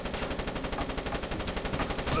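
Rapid automatic turret fire in the Splinter Cell video game, a dense, steady rattle of shots running the whole time at moderate loudness, with no talk over it.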